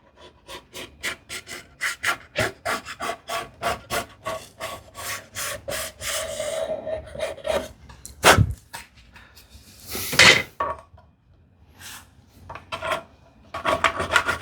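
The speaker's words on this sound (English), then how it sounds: "I know I'm using the card scraper in the wrong angle" A card scraper drags across wood on a hand-tool thicknessing jig in a run of short, rhythmic rasping strokes, close up, with a couple of sharper scrapes partway through and no talking.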